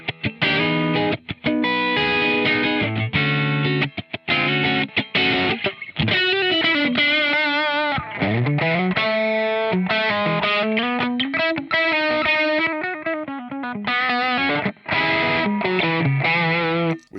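Overdriven electric guitar through a Crazy Tube Circuits Hi Power pedal, loud choppy rhythmic chords giving way to singing bent lead notes and fast runs, ending in chugging stabs.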